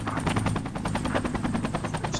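Helicopter in the military video game Project Reality, a loud, close, continuous rotor chop with rapid regular thumping pulses and engine whine, no talk.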